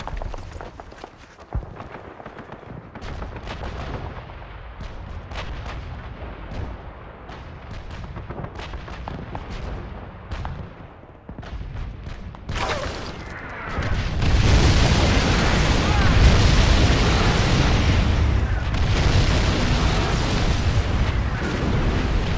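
Artillery barrage in the PS2 game Call of Duty 2: Big Red One, a dense, loud roar of overlapping explosions and rumbling booms that swells after softer scattered blasts, continuing without pause.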